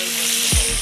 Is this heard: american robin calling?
no